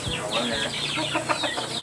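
Free-range village chickens cluck close by in a short, busy burst of overlapping calls, with some faint background noise.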